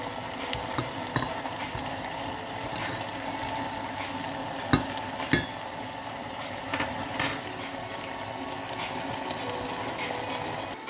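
Salt water evaporating in a heated pan gives a faint, continuous simmering sizzle, broken by a few sharp clinks and taps over about eleven seconds.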